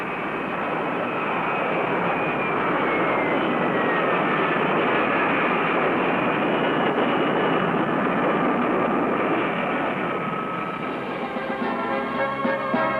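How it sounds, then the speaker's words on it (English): RCAF Golden Hawks jets landing in a tight formation, a loud sustained engine roar with a faint whine that shifts in pitch and holds steady throughout. "One outstanding feature, a tight group landing."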